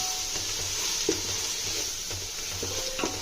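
Coriander paste fries in a pan with a steady, moderate sizzle, while a utensil stirs it in a series of soft scraping strokes.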